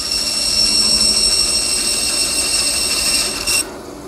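A hand saw cuts a kerf into a wooden tenon, a steady close rasping with a high tonal whine, ending abruptly near the end; no talk.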